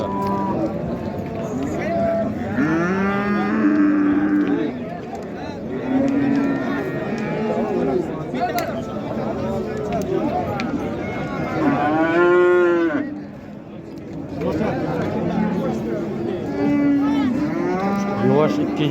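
Cattle low repeatedly at the Karshi Karvon livestock market in Uzbekistan, several long moos rising and falling over steady crowd chatter and people talking nearby.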